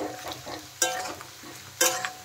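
Potatoes and onions frying in a pan hiss with a steady close sizzle, broken twice by louder scraping bursts as the pieces are stirred and turned, with no voices.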